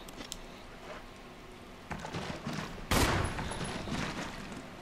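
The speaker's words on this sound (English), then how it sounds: "Shoot it with a pistol." Pistol fire aimed at a shark in Resident Evil HD Remaster, a few sharp game gunshots with a loud burst near the end and no talk over them.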